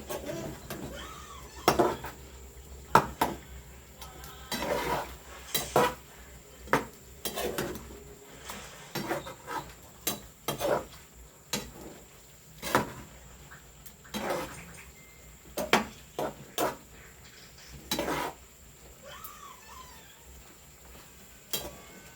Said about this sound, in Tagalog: Paghaluin na po natin kasi luto naman po natin